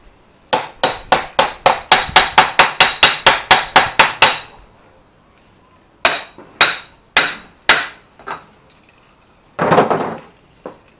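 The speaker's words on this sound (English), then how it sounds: "when you get that good sharp ping out of the hammer" A hammer taps a seal into a 1966 Mustang transmission in a fast run of about fifteen sharp, ringing taps, then a pause, then a handful of slower blows.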